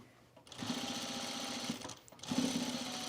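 A sewing machine stitching pajama bottoms: a close, steady mechanical whir of running stitches with a short pause in the middle before it starts up again.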